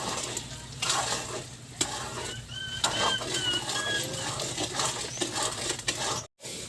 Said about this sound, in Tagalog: Ano guys, halo na lang ang pilit.